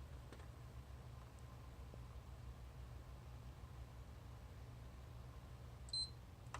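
A single short electronic power beep from a PS3 console sounds faintly near the end over a steady low hum, with a few soft clicks before it.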